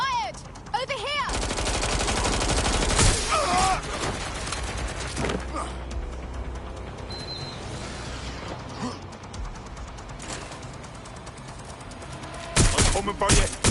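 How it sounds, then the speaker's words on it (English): Gunfire in the video game Watch Dogs Legion: dense, loud bursts of shots and fusillades running through most of the stretch, with a heavy burst near the end, mixed with game noise and clanking mechanisms. "I'm taking fire here! Closing in! Shots fired!"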